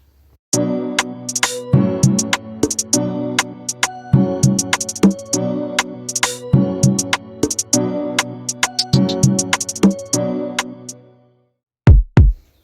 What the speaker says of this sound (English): then for the close hi-hat, I have this pattern